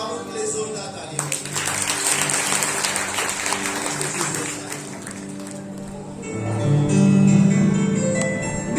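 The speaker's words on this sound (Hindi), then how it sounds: "आइए खुदावंद के लिए जोरदार तालियां।" A church congregation in Jhansi applauding loudly after a worship song, a burst of clapping filling the room for several seconds before music and voices take over.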